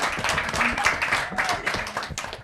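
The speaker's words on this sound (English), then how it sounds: "Let's clap for them, please." Volunteers called forward at an English-language event with a Bamako international American school are greeted by a room of people clapping, steady and moderately loud, mixed with voices talking over it throughout.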